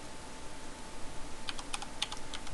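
Someone types a server address on a computer keyboard, a quick burst of light key clicks arriving after a quiet start, fairly faint and heard alone.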